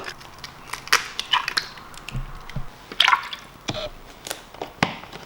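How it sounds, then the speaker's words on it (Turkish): An egg being cracked for homemade baklava dough: close, crisp cracking and crunching sounds, then soft drips and splashes of liquid. "İlk önce yumurtayı kırıyor."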